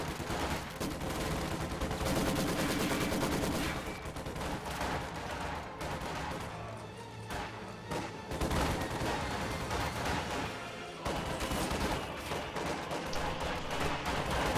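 A Maxim machine gun firing in a World War II strategy game match, with sustained, dense automatic fire mixed with scattered gunshots and explosions. The battle noise is loud and continuous throughout.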